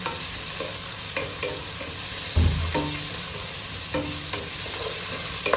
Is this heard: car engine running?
no